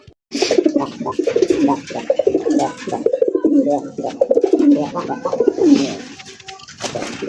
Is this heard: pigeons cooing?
yes